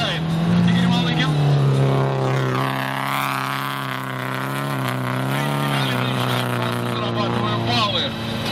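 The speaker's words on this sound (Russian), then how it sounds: "судя по звуку выхлопа, не все хорошо работает." Rallycross race car exhaust at an autocross track, not running quite right, a loud sustained engine drone whose pitch sags and then climbs again. A commentator talks over it throughout.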